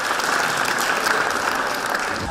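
An audience at a show of national garments, sewn from atlas, adras and beqasam fabrics, bursts into applause. The clapping is dense and even, a continuous wash of hands with no voices over it.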